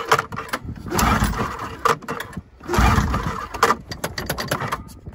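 A rebuilt Polaris IQR600 snowmobile engine, with oil in its cylinders, is cranked in bursts outdoors. Rough, uneven chugging surges come and go without the engine catching, and no one speaks.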